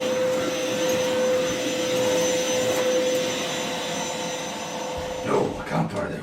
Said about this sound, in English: No, I can't borrow their Hoover because they're Hoovering.